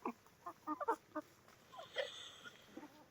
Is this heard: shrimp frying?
no